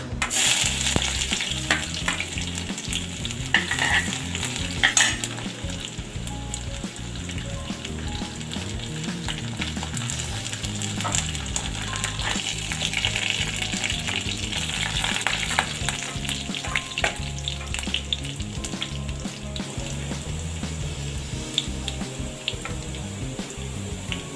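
Garlic sizzles and fries steadily in a hot pan with curry leaves and dried red chillies, a spatula stirring and scraping now and then, the crackle dense and continuous throughout with no talking.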